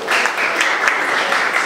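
An audience at a mayoral forum in Minneapolis claps in a dense, steady patter of many hands, moderately loud and continuous throughout.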